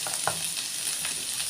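Onion greens stir-fry in a hot pan with a continuous bright sizzle, close and steady, with a few light scrapes of a spatula and no talking.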